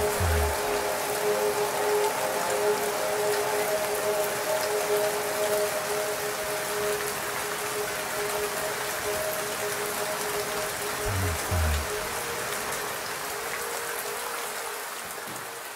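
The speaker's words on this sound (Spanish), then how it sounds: "La lluvia llega con toda su fuerza." Heavy rain pours steadily through the Yasuní rainforest in Ecuador, a dense continuous hiss of drops on foliage and surfaces that stays loud and unbroken throughout, with a couple of low thumps near the start and middle.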